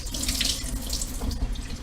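Tap water runs steadily into a drained can of artichokes at a kitchen sink, a continuous close splashing hiss that fills the whole moment with no talking.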